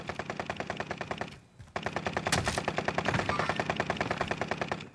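Rapid automatic gunfire in the battle royale game Warzone, sustained bursts of evenly spaced cracks close by, briefly broken by a short pause before the firing resumes.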